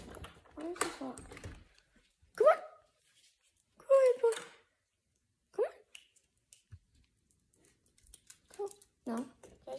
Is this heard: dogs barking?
yes